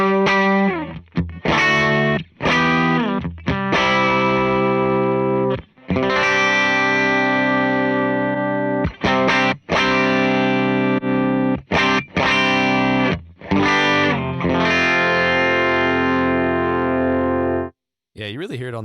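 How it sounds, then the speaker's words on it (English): Electric guitar chords run through a Meris LVX modulation pedal set to a subtle tape warble, pitch gently dipping and wavering, played loud and close in strummed bursts with short gaps between them. "The warble of it can get really deep really fast"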